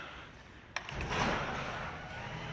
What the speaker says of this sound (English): Automated door open, very nice.